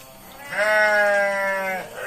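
A goat gives one long, wavering bleat from a goat pen in a village setting, loud and close, with faint rural background noise around it.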